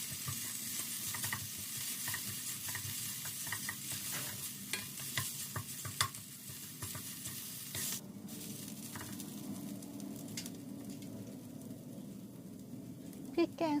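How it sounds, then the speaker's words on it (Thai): Red curry paste stir-frying in a pan for a fish chu chee curry, with a steady hiss of sizzling and fairly quick scraping strokes up close, which ease off partway through and leave a quieter bubbling sizzle. "ผัดพริกแกงให้หอมและสุกก่อน"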